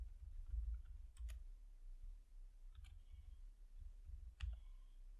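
A few scattered keypresses click on a computer keyboard, faint and sparse against a low, quiet background hum.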